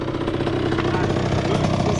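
A small 80cc dirt bike engine idles in a steady, low burbling putter, close and continuous, with voices talking over it.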